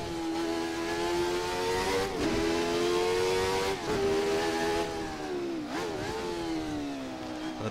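The Jordan 191 Formula One car's engine in a racing game screams at high revs, dipping and surging as the driver double-clutches from fifth down to third, loud, close and continuous.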